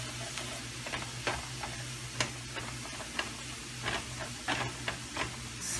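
A tablespoon of flour roasting in butter in a pan makes a soft, quiet sizzle with light rhythmic ticking and scraping from stirring, close but faint.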